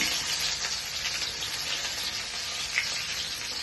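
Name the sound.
ginger frying in hot oil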